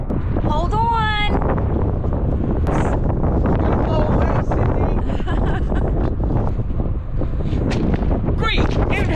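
Strong gusts of wind on a motorhome rooftop buffet the microphone in a constant low roar, with someone talking over the noise at times.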